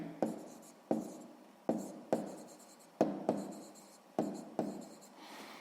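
A pen writes on paper in a sixth-grade math lesson, in a series of short scratchy strokes, roughly eight of them, each a sharp onset that trails off, close and fairly quiet with no voice over them.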